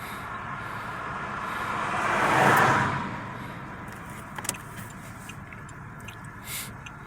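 A car passes on a town street in McKeesport, Pennsylvania, swelling from a distance to a close peak and fading away, followed by quieter traffic hum with a few small clicks.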